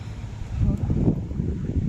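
Outdoor wind in a cold, rainy spell gusts and rumbles steadily against the microphone, a dense low roar with no clear rain patter or voices standing out.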